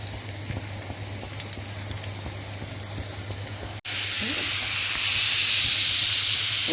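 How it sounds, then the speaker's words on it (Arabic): Onions hit hot oil in a frying pan for an Egyptian vegetable-and-egg omelette, setting off a sudden loud, sustained sizzle and hiss close by after a quieter stretch with a low hum. "حطيت هنا في الطاسه دي حبه زيت، وهنزل بالبصل"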